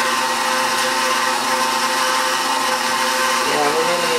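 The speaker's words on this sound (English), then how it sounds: "I'm just going to add a little bit at a time while the machine is running on low" Kitchen stand mixer running on low while eggs are added for a frangipane mince tart filling, a steady loud whirring motor drone throughout with no break.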